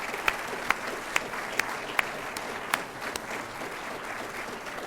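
An audience applauds faculty and staff at a college State of the College address, a steady, fairly soft wash of clapping with a few sharp, distinct claps standing out throughout.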